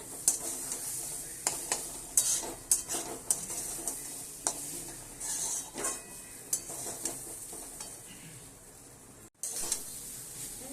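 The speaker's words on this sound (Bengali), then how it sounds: "এই যে ভালো করে নেড়ে ছেড়ে একদম শুকনো শুকনো ঝাল ঝাল মিষ্টি মিষ্টি হয়ে গেল ঝাল সুজি" Spicy semolina (jhal suji) with cashews and raisins being stirred in a pan, a steady scraping and rustling with soft sizzling and occasional clinks of utensil on metal, close and alone with no talk.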